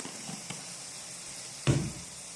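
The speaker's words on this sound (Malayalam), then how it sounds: "അത് ചൂടായി വരുമ്പോഴത്തേക്ക് നമുക്ക് കടുക് പൊട്ടിക്കാം." Mustard seeds heat in about a spoon and a half of hot coconut oil, giving a faint low sizzle with a few scattered pops and one sharper, louder crackle near the end.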